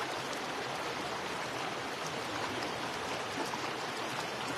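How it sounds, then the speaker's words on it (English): A river flows steadily with broadband rushing water, continuous and even throughout, close and moderately loud with no voices. "as you listen to the sound of the river"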